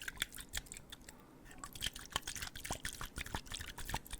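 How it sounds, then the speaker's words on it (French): Eau de toilette perfume drips and splashes in quick, irregular droplets, close up and quiet, with soft wet ticks scattered over a low hiss and no voices. "Le bruit de l'eau ou du parfum. Enfin d'ailleurs le parfum c'est à base d'eau."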